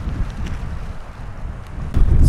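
Strong wind buffets the microphone in a steady low roar at a campsite on the Pacific Crest Trail near Sierra City, gusting harder toward the end, with no voices.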